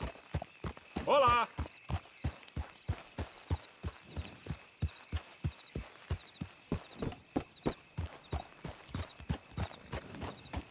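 Horse hooves clip-clop at a steady walking pace in Red Dead Redemption 2, close and evenly spaced, with a brief snort near the start and faint ambient tones behind.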